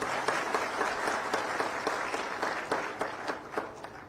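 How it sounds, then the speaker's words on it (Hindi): A crowd gathered for a farmers' festival and PM Kisan instalment event applauds in welcome, a continuous, moderately distant patter of many hands with sharper individual claps standing out, lasting about four seconds. "जोरदार ताली बजा के स्वागतों करा"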